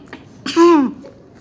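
A person deliberately fakes a cough, a single short voiced burst with a rising, tonal throat sound, close and fairly loud, preceded and followed by brief quiet.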